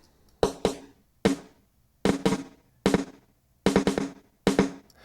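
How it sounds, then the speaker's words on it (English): Seven sharp snare drum hits in an uneven rhythm through a pure delay effect, some doubled by a quick delayed repeat, each with a short decaying tail and silence between. "So what you're hearing there is actually a pure delay,"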